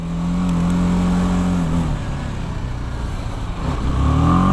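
A BMW G310 GS single-cylinder motorcycle engine revs hard at highway speed, a loud steady drone whose pitch holds high, drops as the throttle eases, then climbs again near the end over rushing wind.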